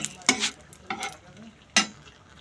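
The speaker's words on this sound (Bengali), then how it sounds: "পেঁয়াজ দুটো পেঁয়াজ কেটে নিয়েছিলাম সেটা ভেজে নিচ্ছি দু চার কোয়া রসুনও আজকে সঙ্গে ভেজে নিচ্ছি" Onion and garlic fry in oil with a soft, close sizzle broken by three sharp bursts of spatula stirring and spattering.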